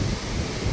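A strong wind buffets the microphone in a brief, loud, low rumbling gust lasting under a second, with no voices.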